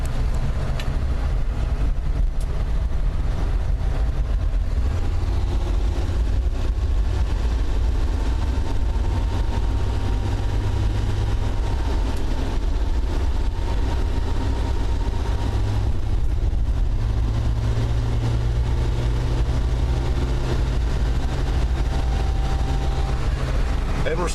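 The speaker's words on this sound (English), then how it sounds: "Hey, we're in first gear." Plymouth Valiant car crawling in first gear over gravel, a low steady engine drone running continuously and fairly loud throughout, with faint crunching underneath.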